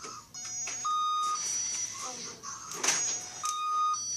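A door alarm gives repeated short electronic beeps in a steady pattern, loud and close, while people talk over it.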